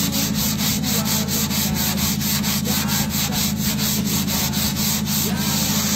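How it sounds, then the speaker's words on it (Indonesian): Rhythmic up-and-down scrubbing on a surface to remove black marks, steady rubbing strokes close and continuous, with no talk. "Gosok sampai hitam tu hilang."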